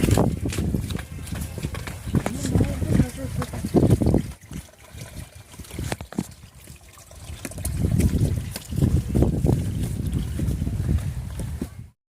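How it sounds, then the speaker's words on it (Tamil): Water pouring down from above at a hill temple near Gingee, a steady broadband splashing rush that dips briefly in the middle before swelling again, close and continuous. "தண்ணி கொட்டுறது"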